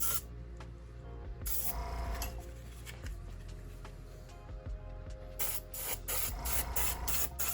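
Airbrush or spray gun painting a 1/24 scale Chevrolet Lumina NASCAR model car body, a steady close hiss of spraying running throughout with brief louder bursts and small mechanical clicks.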